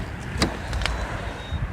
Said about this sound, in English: Here, I'll just open the door.